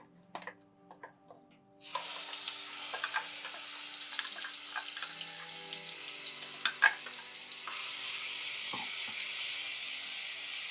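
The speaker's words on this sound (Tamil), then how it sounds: "வெங்காயத்தோட பச்சை வாசனை போகிற வரைக்கும் கொஞ்சம் லைட்டாக இது வதங்கிக்கிட்டு இருக்கட்டும்" Ground onion paste frying with spices in a pan for a Tamil-style kulambu, a soft steady sizzle that rises after a quiet start, with occasional utensil clinks and stirring.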